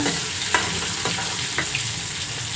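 Onions frying in a hot tempering of oil for a pulao, a dense continuous sizzle with a few faint pops and crackles, close and even in level, no voices.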